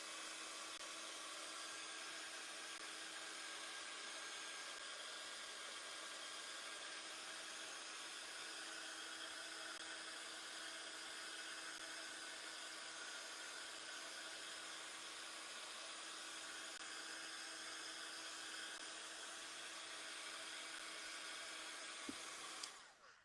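Handheld embossing heat tool blowing steadily on a vintage photo frame craft piece, a continuous loud airy whoosh with a faint hum, running alone for over twenty seconds before cutting off at the end.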